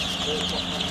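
Fifteen-day-old chicks on a poultry farm cluck and cheep as a dense, steady flock, close and fairly loud, with no speech.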